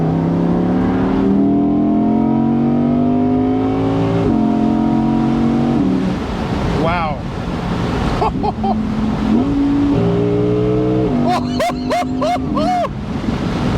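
An Audi R8 V10 Performance Spyder engine roars and revs repeatedly, climbing through gears with sharp pops and crackles, while a voice briefly exclaims.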